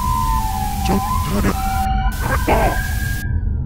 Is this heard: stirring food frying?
no